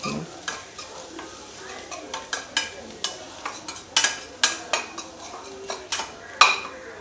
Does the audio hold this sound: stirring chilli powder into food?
yes